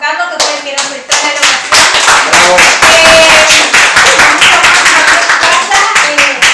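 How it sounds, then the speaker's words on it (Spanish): Loud, close group clapping for Juan Carlos, who lent the filming location for a documentary, with sharp overlapping hand claps carrying on steadily for several seconds. "un fuerte aplauso a Juan Carlos"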